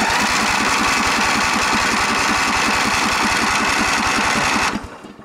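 A Sabra lawn mower engine runs with the choke on, a fast even chugging pulse holding steady for several seconds before cutting off abruptly near the end.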